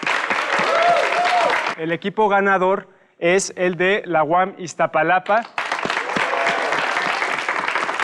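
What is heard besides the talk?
audience applause for the competing teams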